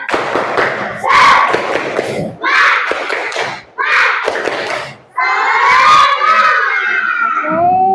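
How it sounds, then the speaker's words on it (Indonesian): Classroom students perform a chanted spirit clap led by their teacher, loud bursts of group chanting broken by sharp clap beats and short pauses, ending in a long drawn-out shout together. "Untuk lebih semangat lagi, kita tepuk semangat dulu ya."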